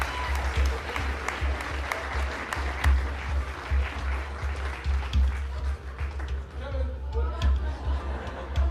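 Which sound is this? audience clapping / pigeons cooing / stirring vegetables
audience clapping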